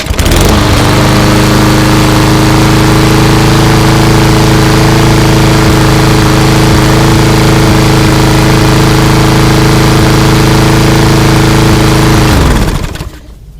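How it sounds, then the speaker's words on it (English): A Craftsman lawn mower with a Briggs engine starts cold, catches, and settles into a loud, steady idle that runs for about twelve seconds before cutting off abruptly. "So let's do a cold start."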